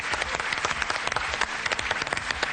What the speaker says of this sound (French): vous méritez également les applaudissements du public